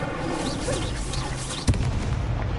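An Incendio fire spell cast in Wizard Simulator, a video game, bursts out as a single sharp whoosh-boom amid a constant, rushing, noisy game background.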